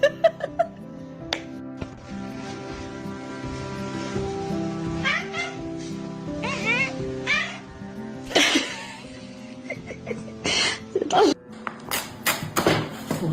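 A cat meows repeatedly at home, drawn-out and insistent cries spaced through the scene, close by, while a person talks and laughs over and between them.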